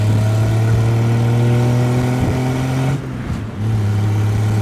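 A 1967 Triumph Vitesse engine fitted in a Marlin Roadster, driven in the rain, drones loudly from close by during an overtake, its steady tone dropping briefly around a gear change before pulling strongly again.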